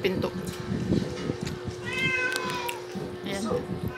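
Drawn-out meows from a cat at a door sound clearly among someone's speech, with a constant low hum in the indoor background.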